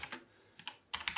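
Keys tapped on a computer keyboard while a YAML configuration file is typed: a few quiet, separate clicks, a brief pause, then a quicker cluster of keystrokes.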